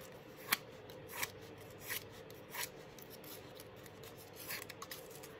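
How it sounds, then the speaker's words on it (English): Faint dry scraping as a fingernail is run repeatedly over Doodlebug scrapbooking paper, a series of soft rasping strokes spaced about half a second apart over a quiet hiss. "I'm just going to simply take my fingernail and run it over the paper."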